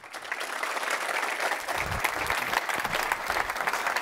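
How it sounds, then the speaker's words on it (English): A room full of people claps steadily for a masterclass speaker, a warm continuous round of applause that stays even from start to finish. "So please give a warm round of applause for Samson Wong."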